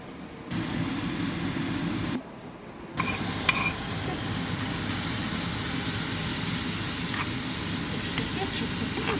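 Steady loud hiss and sizzle of frozen carrot, coarsely grated, frying in oil in a pan; the sound drops out briefly twice before settling into a continuous spitting roar with occasional pops.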